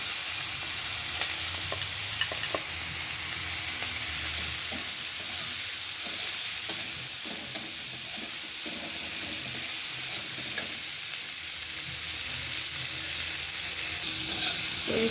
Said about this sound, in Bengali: পেঁয়াজটা একটু হালকা ভেজে নিচ্ছি, পেঁয়াজ লঙ্কাটা।